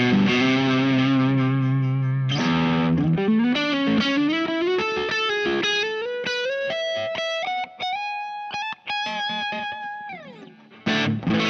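Charvel Pro-Mod San Dimas electric guitar played through its neck pickup with distortion and effects, sustained chords giving way to a rising melodic line of held, chimey notes, loud and alone.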